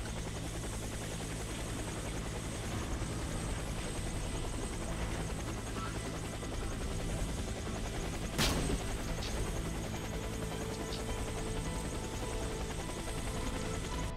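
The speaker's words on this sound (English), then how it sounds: "I don't care, I'm on the helicopter." A helicopter in the PC shooter game Warface drones steadily and loudly throughout, with one sharp gunshot-like crack partway through.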